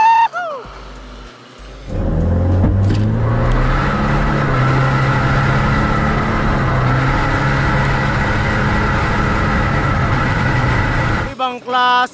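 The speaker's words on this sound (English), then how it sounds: "Ibang klase yung alis ng Fortuner na yun." A diesel Toyota Fortuner launches in a drag race, its engine surging into a loud sustained roar that holds steady for several seconds before cutting off, with voices heard briefly at the start and end.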